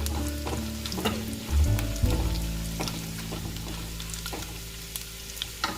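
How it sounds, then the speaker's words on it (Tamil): Dried red chilies and chana dal fry in hot oil for a tempering, giving a steady close sizzle with occasional stirring clinks and scrapes throughout, no voices. "நல்லா இதை பொரிய விட்டுக்கலாம்."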